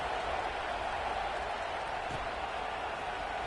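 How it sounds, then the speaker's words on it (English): A stadium crowd at a football game keeps up a steady, distant buzz of murmuring and cheering after a score, with a voice talking over it. "this crowd is buzzing after that last score"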